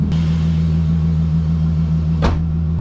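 A BMW E36 engine idles steadily with a low, even hum and a faint fluttering undertone, close and constant throughout, with one brief higher whoosh near the end.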